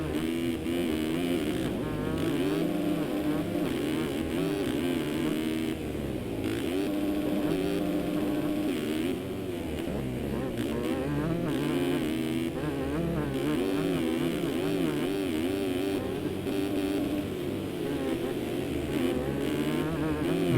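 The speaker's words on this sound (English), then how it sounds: "just listen to that sweet two-stroke sound" A two-stroke motocross bike engine in the MX Simulator racing game, during a Red Bud national round, buzzes steadily and loudly for the whole stretch, its pitch rising and falling with throttle as other bikes drone underneath.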